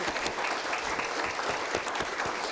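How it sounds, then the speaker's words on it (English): An audience at a health and wellbeing event claps together, a dense, even wash of applause from a crowd that holds steady for a few seconds with no speech over it. "Let's give them both a round of applause."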